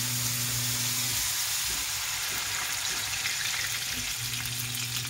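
Second coconut milk extract for Bicol express simmering in a pot, giving a steady close bubbling hiss and sizzle with faint low hum, no talking.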